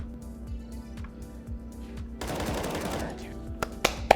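Automatic gunfire in the video game CS:GO during a corner peek, a steady stream of rapid shots building into a dense burst midway and ending in a few sharp louder cracks, heard alone without talk.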